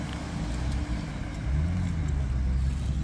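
A BMW M3 rolls past at a car meet, a steady low engine rumble that swells slightly midway, with outdoor crowd noise around it.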